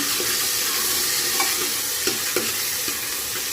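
Onion and cumin sizzle steadily in hot oil for a tempering, a bright continuous hiss with a few soft stirring scrapes and pops, close and alone without speech.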